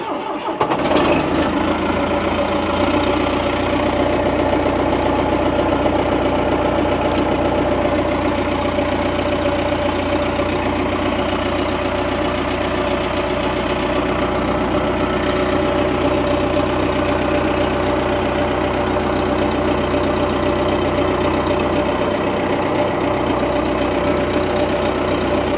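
A small tractor engine starts up and settles into a steady, loud idle with a constant hum and faint knocking, running alone without talk for the whole stretch.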